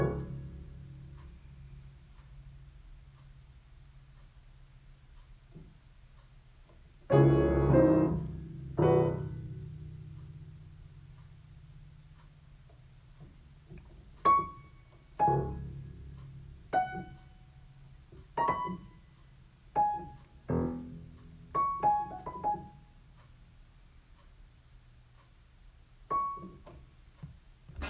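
Sparse piano notes ring out one at a time with pauses between, after a low sustained tone and a louder cluster near the start; quiet, no voices.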